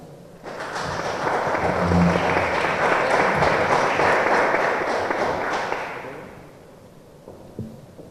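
A conference audience gives a strong round of welcoming applause for a speaker, rising quickly, holding dense and steady for several seconds, then fading out, with a brief thud near the end.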